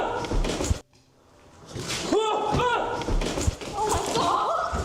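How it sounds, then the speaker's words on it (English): A door slams shut with a heavy thud, closing seemingly on its own in a room, set against busy background noise and people talking. "Could this door closing be a spirit playing tricks?"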